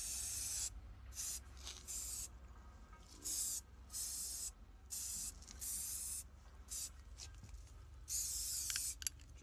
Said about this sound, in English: So, shake up your spray can again. We're just gonna lightly go across it this time,